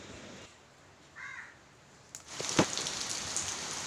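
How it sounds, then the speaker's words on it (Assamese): Morning rain falling, a soft hiss that swells in after a single crow caw and keeps pattering steadily, fairly faint overall. "এই ৰাতিপুৱা উঠি বৰষুণ দেখিলোঁ"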